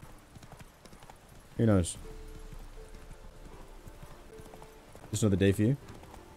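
Horse hooves clip-clop on the ground in an open-world video game, a steady walking rhythm under ongoing talk, with two louder bursts that may be whinnies.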